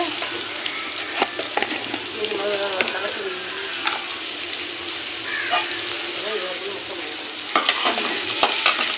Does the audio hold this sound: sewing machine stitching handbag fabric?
no